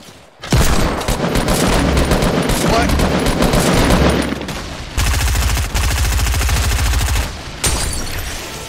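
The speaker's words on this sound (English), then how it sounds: "Oh, another Deagle shot." Desert Eagle gunfire in Fortnite, loud and near, a dense barrage of rapid shots that breaks off briefly and resumes several times.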